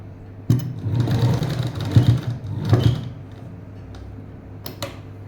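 A sewing machine stitches the seam of a 38-inch three-piece princess-cut blouse front, running in several short, close bursts with brief pauses between them over a low steady hum.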